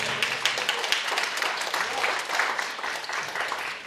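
Applause at a 2014 music show, a steady wash of clapping held at an even level for a few seconds with no voices over it.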